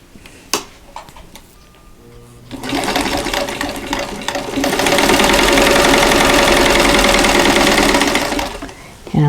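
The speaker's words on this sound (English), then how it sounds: "we're going to sew 1/4 inch away from that drawn line on both sides of it" A sewing machine chain-pieces quilt squares for a box quilt block, stitching a quarter inch from a drawn diagonal line; after a few quiet clicks and handling sounds, a steady loud motor whir runs continuously for several seconds, then stops.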